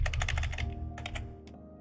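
Rapid keystrokes clatter up close on a computer keyboard over a steady low hum. They come in a fast run, pause, then return as a few more scattered taps.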